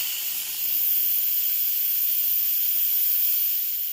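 Instant Pot releasing pressure through its valve, a loud, close, steady steam hiss that holds without a break.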